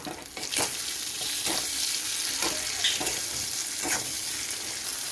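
Onion and tomato frying in oil in a pan that just held fish: a steady broadband sizzle runs throughout, with periodic louder scrapes from stirring roughly once a second.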